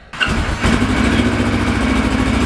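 A Kawasaki Ninja 650R motorcycle engine cranks and catches after an oil change, then settles into a steady, rumbling idle close by.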